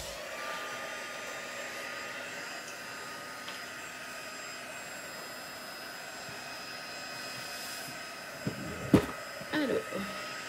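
A handheld dryer blows steadily on dry pastel pigment spread over paper, a constant close whirring drone that lasts throughout, with a few small knocks and handling noises near the end.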